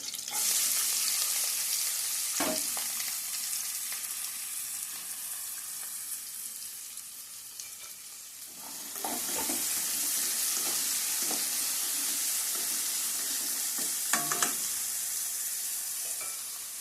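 Onions fry with a steady broadband sizzle in a pan for making akakarakaya (spiny gourd) curry, with occasional scraping stirs and a louder burst of sizzle partway through; no voices.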